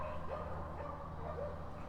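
Dogs bark and yip faintly in the distance, several short calls repeating under a steady low background hum.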